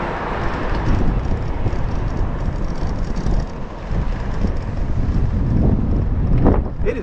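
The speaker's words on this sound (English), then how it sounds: "It is very windy today." Steady, loud wind buffeting a microphone on a moving motorcycle in traffic, a rough low rumble that persists throughout without a break.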